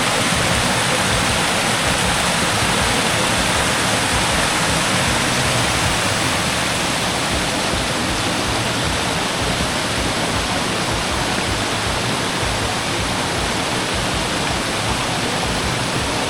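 River water rushes over a weir on the Se Noi river, a loud, steady broadband roar of falling and churning water that holds unbroken throughout, close by with no voices.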